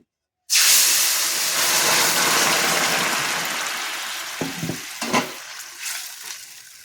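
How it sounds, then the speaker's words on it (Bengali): Pumpkin-and-potato pool fish curry poured into a hot pan bursts into a loud, steady hiss and sizzle that slowly settles, followed by a few soft stirring scrapes near the end. "এবার আমি তরকারিটা ঢেলে দেবো"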